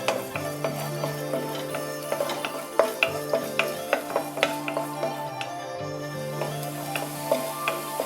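Ginger and garlic sautéing in a pan for an egg and sweet corn soup, a soft sizzle under rhythmic ticking stirring taps and a low steady hum, with no voices.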